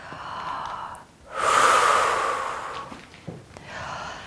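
A single long, breathy exhale during a rib-cage breathing exercise for pelvic floor, diaphragm and core setup, swelling and then fading over about a second and a half, close and fairly soft, with quieter breaths around it.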